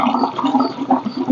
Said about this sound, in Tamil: அதில் தண்ணியை ஊற்றணுங்க. தண்ணியை ஊற்றி நல்லா மிக்ஸ் பண்ணணுங்க